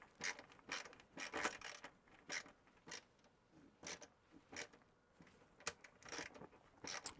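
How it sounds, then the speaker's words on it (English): Screwdriver driving screws into holes of a clear MacEffects case for a Macintosh SE to pre-thread them: repeated close ratcheting and grinding bursts with short pauses between turns. "I'm going to use these screws to sort of thread the holes before we start assembling it"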